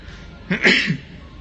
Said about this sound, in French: Je vais éternuer, excusez-moi.